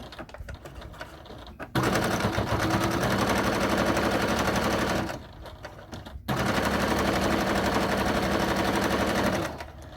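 Sewing machine stitching a fabric wallet seam about an eighth of an inch from the edge, running in two long, fast, rattling bursts with a short pause between, close and loud with no voices.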